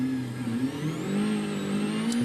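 Rally car engine revving on a Monte-Carlo Rally special stage, a steady mid-pitched roar that rises and shifts in pitch as the car accelerates, continuous and fairly close with no talk over it.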